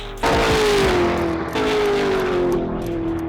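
A drift car on a Guinness record fastest-drift attempt roars past at about 270 km/h, its loud engine tone dropping in pitch as it passes close by, with a second surge following.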